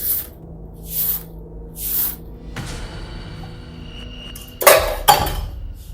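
Water runs in short spraying bursts, then dishes clatter and clink sharply a couple of times near the end.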